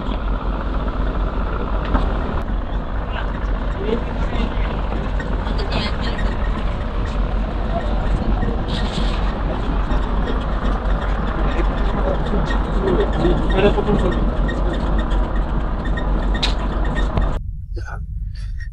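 A small trawler's engine on a river in Bangladesh drones steadily and close by, with a dense, continuous low rumble that stays fairly constant before cutting off abruptly near the end, amid background voices.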